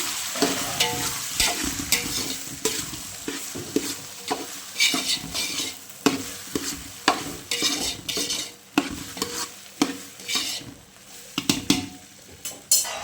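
Okra and potato curry is stirred in a hot pan: a spoon repeatedly scrapes and clinks against the metal over a constant frying sizzle, in an uneven, busy rhythm close up.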